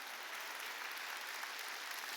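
Steady applause from a church congregation at a Wednesday worship service, a dense even patter of many hands clapping continuously, moderately loud and filling the room with no voices over it.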